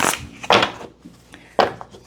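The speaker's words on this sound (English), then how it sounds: "One more shuffle." Tarot cards being shuffled by hand, heard as three quick papery riffling bursts, close and fairly loud, with quieter rustling between them and no talking.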